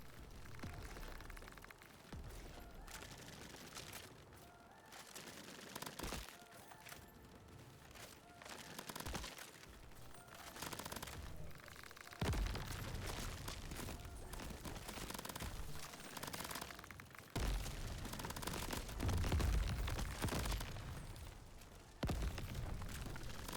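Rapid automatic gunfire from a weapon in the video game Qrab Champions, a loud, dense, nearly unbroken stream of shots and impacts with heavier booming bursts near the end, layered over busy game sound.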